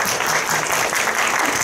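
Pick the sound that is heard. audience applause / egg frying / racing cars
audience applause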